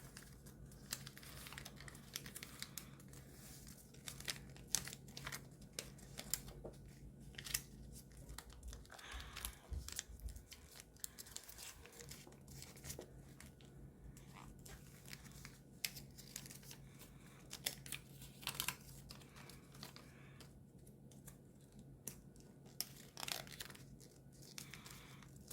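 Paper is folded and creased by hand to make an origami ninja spinning top. Soft crinkles and crisp taps come up close and quiet in scattered bursts.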